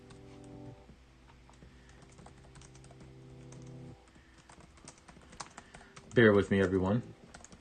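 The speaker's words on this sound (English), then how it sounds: "Now I gotta type this in." Quick clattering keystrokes on a computer keyboard come in a short loud burst near the end, following quiet background sound and a brief spoken line.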